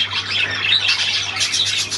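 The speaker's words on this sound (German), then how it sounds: "Ja, eine weiße Möwe, ein Fischer." A white seagull squawks loudly and close up in short harsh bursts, with a low steady hum beneath.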